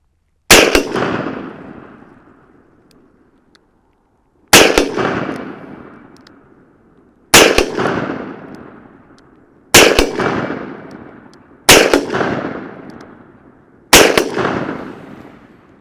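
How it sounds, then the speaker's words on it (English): Six loud, sharp gunshots from a Ruger Super Redhawk .44 Magnum revolver at an outdoor range, spaced a few seconds apart, each with a long ringing decay. "I'm going to be shooting that target right there."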